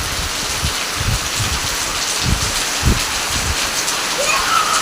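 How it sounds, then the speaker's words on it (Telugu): Steady rain falls outdoors as a broad, constant wash of patter, with a few dull low thumps of drops striking nearby surfaces. "సంబరం అవుతుంది వాన వచ్చానని."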